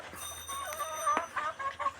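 Several chickens cluck and squawk intermittently in short bursts, moderately close, over a quiet background hum.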